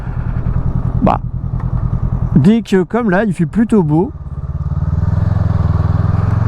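Sunday rider's motorcycle engine rumbling steadily at a low, even pitch, loud and close, with someone talking over it in the middle while the engine keeps running underneath.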